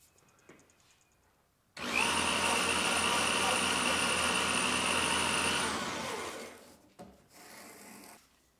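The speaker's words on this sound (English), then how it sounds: "So I just need to ream it about another inch and a half." A reamer bores out a pre-shaped cork casting grip on a fishing rod blank, giving a loud, steady grinding whir that runs about four seconds before tapering off, with quiet pauses before and after.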